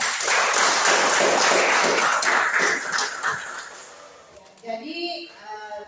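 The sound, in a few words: classroom applause for student groups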